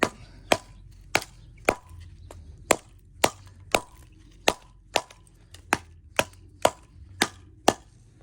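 A Schrade SCHF9 survival knife chops wood in a steady rhythm, about fourteen sharp, close whacks spaced roughly half a second apart, with quiet pauses between strikes.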